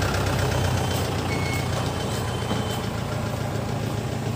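A truck idles with a low heavy engine rumble while a reversing beeper chirps repeatedly at a fuel stop, the vehicle coming up from behind, steady and fairly close.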